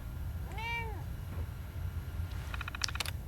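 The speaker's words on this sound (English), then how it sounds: "Meow on you too." A cat meows once inside the video game Fallout 4, a clear rising-falling call standing alone over low background hum, followed later by faint electronic game tones.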